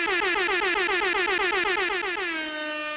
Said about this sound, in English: I'm gonna do the air horn so I could see it on the waveform